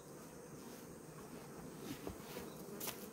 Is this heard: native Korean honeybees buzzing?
yes